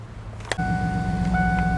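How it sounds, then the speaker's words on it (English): Ford Bronco engine turning over and catching after a brief click, then idling with a steady low throbbing rumble and a faint whine riding on top, close and loud. "I just turned on the motor"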